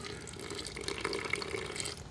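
A faint stream of water pours and splashes briefly into fast-setting concrete patching mix, a gentle running trickle at low volume.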